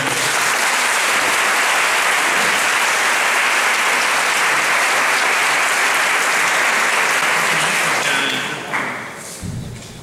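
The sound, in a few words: audience applause for Jean-Jacques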